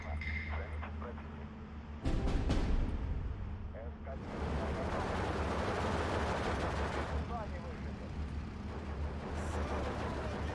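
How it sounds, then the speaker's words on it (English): Mortar and gunfire from the World War II strategy game Steel Division 2 rumble as a dense barrage, with sharp shots, then sustained booming fire that holds for several seconds, loud and continuous. "They put all the mortars on to fire it well."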